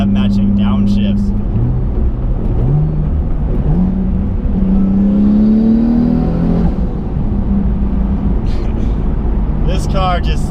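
A 650whp twin-turbo Nissan 370Z NISMO engine revs hard and climbs in pitch with a gearshift along the way, loud and close, with a whooshing intake note.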